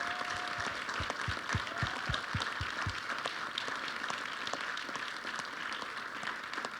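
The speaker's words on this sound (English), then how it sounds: "Let's give them a round of applause." Audience applause for panelists after a lecture on the Black Church in Chicago, with a few sharp distinct claps at first and then softer, fairly distant steady clapping in a hall.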